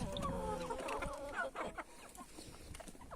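Several chickens cluck and chatter close by at a coop door, a busy overlapping flock with short calls throughout.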